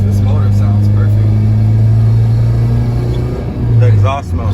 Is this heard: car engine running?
yes